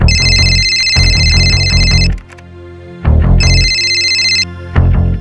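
A telephone rings in two bursts of bright electronic tones, loud and close, over a busy background of music or room noise in a crime drama scene, with a pause between rings.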